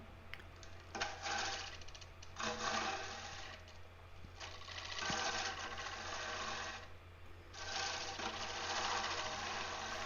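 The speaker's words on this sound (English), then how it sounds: "I can turn this entire bowl with just this tool I'm using right now, the 1/2 inch 55-degree bevel swept back bowl gouge." A 1/2 inch swept-back bowl gouge cuts into a spinning mulberry crotch bowl on a wood lathe, producing rough, hissing scraping bursts that come in waves over the low hum of the turning machine.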